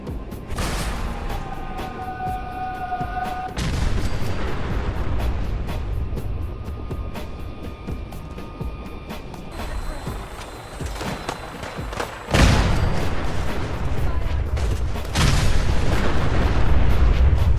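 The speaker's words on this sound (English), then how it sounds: "this might be one of the coolest explosions I've seen in a Fallout game" Explosions in the Fallout game, a series of heavy booms and blasts with rumbling debris, loud and close, with bursts at the start and renewed louder blasts near the end.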